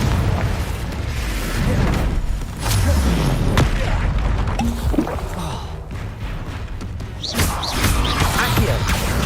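A Confringo blast spell in Hogwarts Legacy sets off loud booming impacts and crashing bursts, with several sharp blasts through a busy, noisy combat scene and faint voices in the mix.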